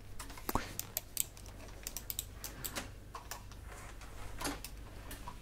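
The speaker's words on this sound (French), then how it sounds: "Le clavier est beaucoup plus efficace pour vous endormir profondément." Computer keyboard typing up close, a steady patter of soft clicks and taps with a few sharper keystrokes, played alone without any voice.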